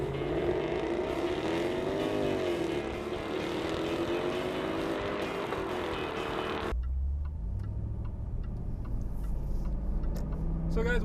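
David Brown Speedback GT Silverstone Edition being driven, a continuous close engine drone with shifting pitch that gives way to a quieter low cabin rumble partway through.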